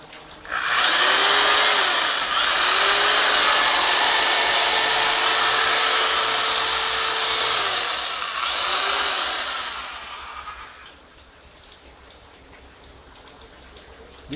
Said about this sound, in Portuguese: Furadeira.